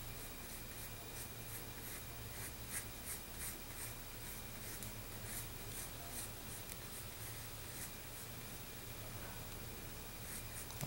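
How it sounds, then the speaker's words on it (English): A pencil drawing a circle on paper while sketching a Louisville Cardinals logo, heard as a steady, soft scratchy rubbing with rhythmic strokes under faint background hiss, close up and without speech. "From this line over here, draw"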